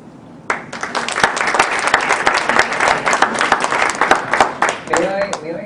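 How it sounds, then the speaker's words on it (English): Loud, dense applause from an audience, many hands clapping steadily for several seconds before tapering as a voice begins to speak. "May I suggest that we keep the applause for the end"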